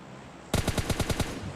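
Rapid burst of about seven M416 rifle shots from the mobile game PUBG Mobile Lite, loud, close and evenly spaced, starting abruptly after a quiet moment and ending with a short decaying tail.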